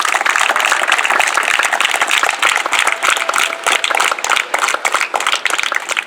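Schoolchildren at an assembly give each other a round of applause, loud, close, uneven clapping from many small hands with distinct individual claps and choppy bursts, lasting several seconds with no talk over it.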